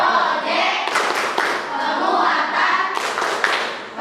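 Children in a classroom do a group clap chant, bursts of rhythmic hand clapping interleaved with voices chanting along, fairly close and lively.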